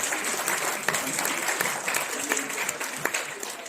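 At a grand award ceremony at Sharda University in India, a crowd claps loudly and steadily, with dense, sustained applause filling the hall from start to finish.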